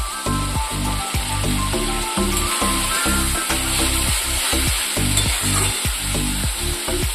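Loud, steady sizzling in a hot frying pan as a little water goes in while egg fritter curry cooks, with rhythmic scraping strokes of a stirring spoon throughout.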